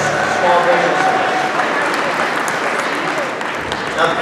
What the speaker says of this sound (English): let's give them a round of applause as they make their way down the red carpet